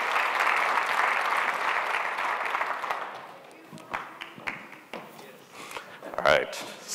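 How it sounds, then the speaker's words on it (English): An audience applauds at a business event on advanced recognition systems, a dense clapping that holds steady and then thins into scattered claps, with a voice speaking over the tail. "let's give them a round of applause"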